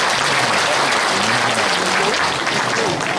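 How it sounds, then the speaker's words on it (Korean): Loud, sustained applause from a large crowd, a dense steady roar of clapping with voices murmuring underneath. "박수 부탁드립니다."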